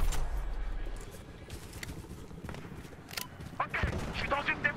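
An MP7 submachine gun fires in a video game, giving sharp, scattered shots and short bursts that grow louder toward the end while a person talks over the action.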